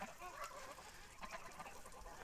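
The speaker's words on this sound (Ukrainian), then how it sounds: "Випустив менших гусенят трохи походити." Young geese, goslings, honk and peep softly at a distance after light rain, small overlapping calls over a steady outdoor background hiss.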